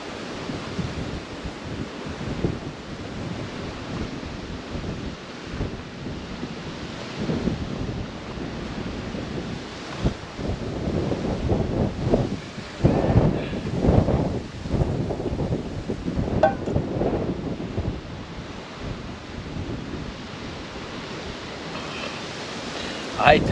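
Strong wind at Apelviken roars steadily against the microphone, a continuous rumbling rush with gusty swells midway, no voices.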